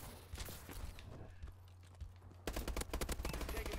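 Gunfire in Call of Duty Advanced Warfare: rapid bursts of automatic shots, faint at first, then a dense, louder volley near the end, no talking.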